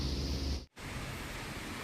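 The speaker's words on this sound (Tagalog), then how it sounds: "At lumakas pa nga ang ulan at hangin." Heavy rain and wind in Tanay, Rizal, Philippines make a dense, steady rushing roar, broken by one brief cut before the downpour continues.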